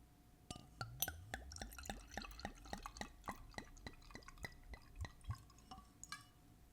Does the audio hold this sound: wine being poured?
yes